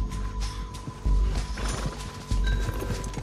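A horse whinnies over a clip-clop of hooves in the Red Dead Redemption 2 video game, with heavy low thuds and a rumbling background; the neigh and hoofbeats sound close.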